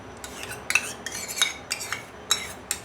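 Spoon stirring mango pulp into whisked yogurt in a bowl, a run of quick metallic clinks and scrapes against the dish in an uneven rhythm, close and clear with no talk.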